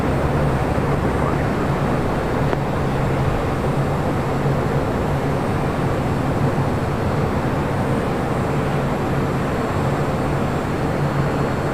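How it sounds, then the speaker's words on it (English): United airliner bound for Shanghai rolling down runway 25 right at Los Angeles International, a sustained loud low engine rumble and roar continuing evenly throughout with no voices. "United flight heading to Shanghai, now rolling down 25 right."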